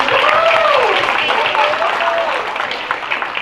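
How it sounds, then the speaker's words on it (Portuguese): A crowd of players applauds together in steady, dense clapping that holds for a few seconds, with a voice calling out over the noise. "Aplausos, jogadores!"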